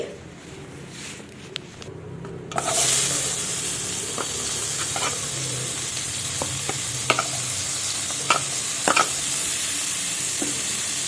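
Chopped onions hitting hot oil with cumin seeds, a sudden loud sizzle that holds steady while a spatula scrapes and taps the pan several times, close by.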